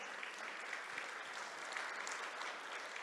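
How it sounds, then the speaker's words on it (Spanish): A church congregation applauds during a Spanish-language sermon, a steady, even wash of clapping held at a moderate distance throughout, with no voice breaking through. "Denle un aplauso al Señor."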